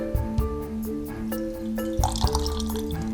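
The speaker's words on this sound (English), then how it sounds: "And I'll just take my comfrey oil and pour it through there." Comfrey oil is poured through a nut milk bag into a jar, giving a steady close liquid trickle and dripping with a few small splashes and knocks, with no talk.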